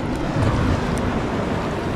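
Sea waves washing in at a river mouth after heavy rain, a steady broadband rush with wind buffeting the microphone, fairly loud and continuous.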